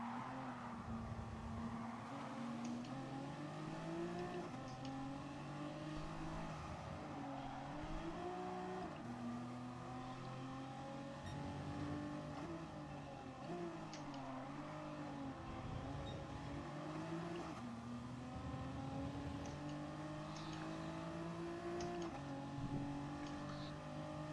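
Several race cars in a racing video game drag-race side by side toward the finish line, engines droning and shifting pitch steadily with occasional tire squeal, loud and continuous with no talk.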